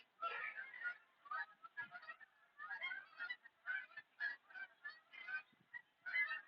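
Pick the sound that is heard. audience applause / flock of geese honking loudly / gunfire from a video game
flock of geese honking loudly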